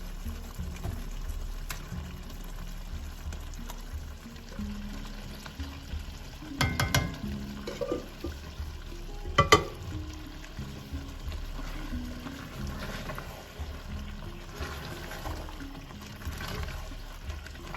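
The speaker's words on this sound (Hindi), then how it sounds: "इस मौके पे आप जो साग आपने बनाया था ये आप इसमें मिक्स कर दीजिए।" Saag is stirred into meat frying in oil in a pan, giving a continuous soft sizzle with scraping stir strokes and a couple of louder clatters of the spoon against the pan.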